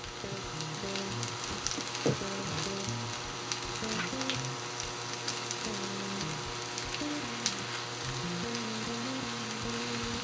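Mushrooms and garlic sizzle steadily in a pan, a close, continuous frying hiss with faint crackles throughout and no talking.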